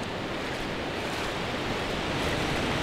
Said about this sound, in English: all you do is you just wait for that little lull where the waves will just calm down a bit